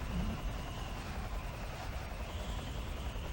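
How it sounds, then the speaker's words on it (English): Helicopter in Metal Gear Solid 3: Snake Eater, a steady loud rotor drone with low thumping and engine hum throughout, no talk. "But I kind of want to make this helicopter go boom."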